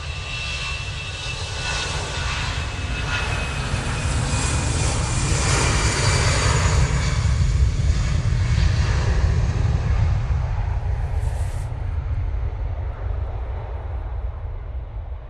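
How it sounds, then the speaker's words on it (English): A Brussels Airlines Airbus A320 jet at Manchester Airport roars steadily as a loud, sustained engine rumble, fairly close and even throughout with no voices. "Brussels Airlines returning to proper Brussels now, using their 320."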